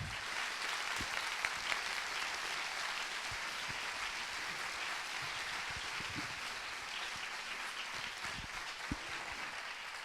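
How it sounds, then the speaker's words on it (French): Conference audience applauding to welcome speakers onto the stage, a steady wash of many hands clapping at moderate distance, sustained and even for the whole stretch with no talk over it. "je vais vous demander d'accueillir sous un tonnerre d'applaudissements"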